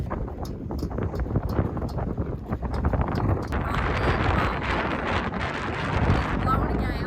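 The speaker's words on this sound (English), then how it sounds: "Blowing a gale." Strong night wind on a Kangaroo Island beach roars steadily and loudly, buffeting the microphone in gusty rumbles with faint surf-like hiss throughout.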